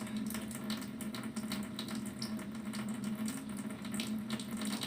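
A faucet runs steadily during hand washing, giving an even, continuous stream of water splashing into a sink with no pauses and no voices over it.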